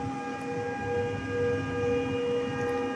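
A siren plays outdoors somewhere in India. Its steady tones hold level and sound distant under a low background rumble, with no talk.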